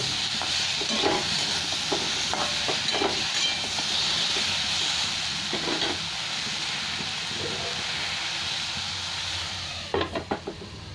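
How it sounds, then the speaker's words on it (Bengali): Ridged gourd, potato and small fish curry vegetables frying under a lid in a pan with salt and turmeric, a steady hiss and sizzle throughout with occasional stirring scrapes and a few sharp clinks near the end. "সবজিগুলো ভালো ঢাকা দিয়ে ভেজে নেব।"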